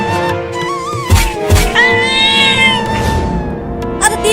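A cartoon cat meows several times in a drawn-out, wavering way, close and loud, with a few thumps and other animated sound effects mixed in.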